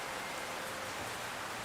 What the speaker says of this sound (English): It's raining ever so much.